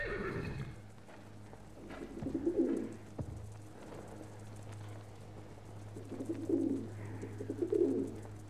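Pigeons coo in low, soft bursts, a few times, in the Ottoman campaign of the Battlefield 1 video game, set against a quiet background.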